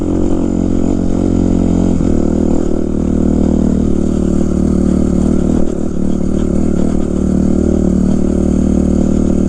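A 2005 Kawasaki KX 250F dirt bike, ridden with a broken clutch lever and shifted without the clutch, makes a loud, steady four-stroke engine drone close up, with slight dips in pitch at the shifts.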